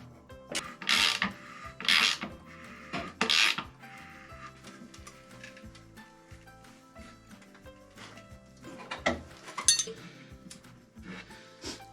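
Metal fittings on the wings of a snow plow being tightened with hand tools, giving sharp clinks and scraping rasps in a few bursts, loudest early on, with quieter rubbing between them and no talk.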